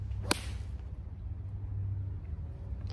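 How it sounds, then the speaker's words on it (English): A single sharp, crisp click of a golf ball struck by a pitching wedge from 120 yards, followed by a soft fading swish over a low outdoor rumble. "A chip on from 120 yards with a P wedge"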